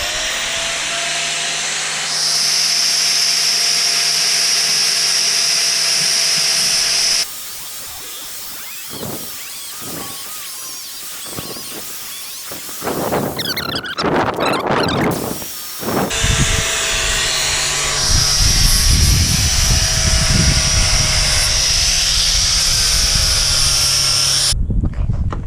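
A grinder cuts out a through-hull fitting on a Bianca 27 sailboat. A loud, steady high whine shifts pitch as the disc bites, with a harsh, gritty grinding stretch in the middle, heard close and with no voices.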